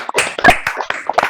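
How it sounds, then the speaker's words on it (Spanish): A small audience claps hands after a music lesson by a teacher and performer, with short close, uneven bursts of clapping and no voices. "Yo pido un aplauso maravilloso"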